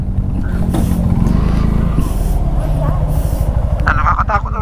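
A motorcycle engine runs steadily in low gear while riding uphill on a mountain road from Mariveles toward Mt. Samat in Bataan, a continuous loud drone with a pulsing low rumble, and people talk over it throughout.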